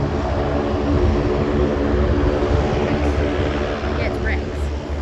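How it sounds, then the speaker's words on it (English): A Rex Saab 340 turboprop airliner at Sydney airport, a steady, droning propeller-engine roar that is loud and fairly close, with a faint voice in the background. "It's a Saab 340."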